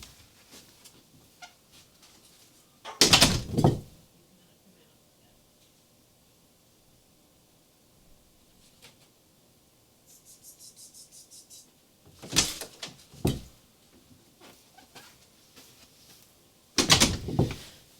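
A door in a home craft studio opening and closing: several loud, sharp thumps and rattles in separate bursts, each followed by quiet room tone, with a soft fluttering sound in between.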